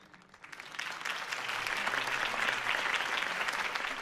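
Crowd applause swells after a mayoral campaign speech in the Batman Telltale video game, rising from quiet to a steady, dense clapping heard from a distance and sustained to the end.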